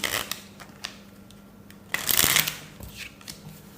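Playing cards being shuffled, a few quick riffling bursts with a louder riffle in the middle, close and clear.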